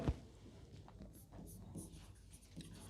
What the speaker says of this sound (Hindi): फॉर एग्जाम्पल मैं यहां पे लिखता हूं